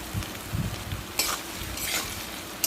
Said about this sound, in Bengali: তো আদাটা দিয়ে ভালো করে ভাজা ভাজা করে নেব